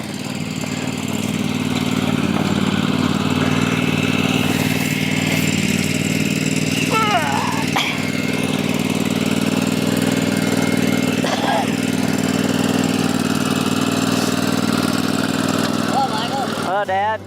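A tractor engine with a small tiller on the back chugs steadily throughout in a garden, close and continuous, with a few faint voices briefly heard over it.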